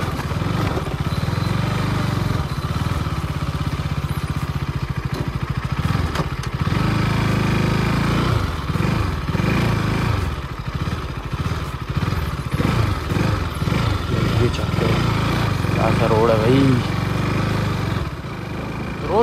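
A motorcycle engine runs steadily close by on a mountain road in Kashmir, a continuous mid-pitched drone with shifting throttle and no speech over it.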